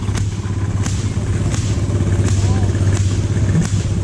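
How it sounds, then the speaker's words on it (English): A small Maytag stationary engine runs steadily close by at a tractor show, with a low droning hum and a sharp pop repeating roughly every second. "these little Maytag motors, they're very handy in and of themselves"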